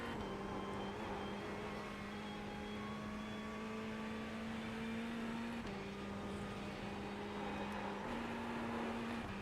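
A Ferrari 488 GT3 race car engine in the iRacing game at Bathurst, a steady droning tone that steps down in pitch on downshifts and climbs again, continuous and fairly quiet throughout.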